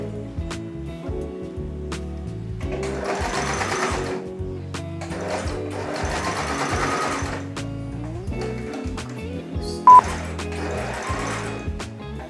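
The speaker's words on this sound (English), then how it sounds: "this is going to be my first time sewing buttonholes, so I'm a bit nervous, but I'm going to test it out on a scrap piece of fabric first" A sewing machine stitches buttonholes on a scrap piece of fabric in several close bursts of rapid mechanical clatter separated by short pauses, with one brief beep in between.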